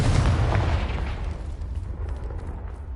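A Confringo spell blast in Hogwarts Legacy, a loud deep boom up close that rolls off and fades over a few seconds.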